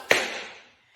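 One crisp, ringing tap-shoe strike from a spank, heel, step drawback that fades out, followed by a faint second tap at the end.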